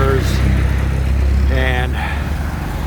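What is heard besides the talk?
continuous traffic of cars and scooters on Ring Road, Koh Samui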